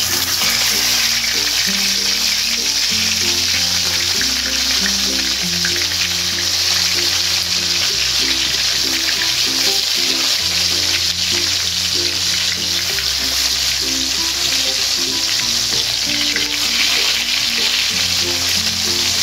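Oil heating in a frying pan, a loud, continuous sizzle and crackle that runs unbroken, with faint rhythmic background tones underneath.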